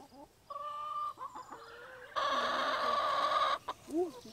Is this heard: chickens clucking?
yes